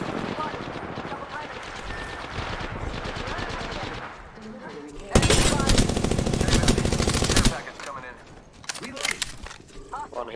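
Automatic gunfire in the battle-royale game Apex Legends, with rapid dense bursts and one very loud sustained volley in the middle. Players talk over it throughout.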